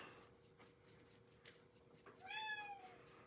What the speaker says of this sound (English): The cat is very excited.